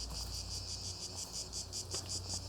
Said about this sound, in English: They're cicadas.